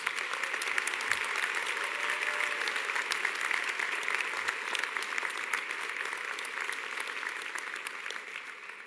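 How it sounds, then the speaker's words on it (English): A graduation ceremony audience gives sustained, dense applause that carries steadily for several seconds, loud and close with no break, then begins to thin slightly toward the end. "give yourselves another round of applause"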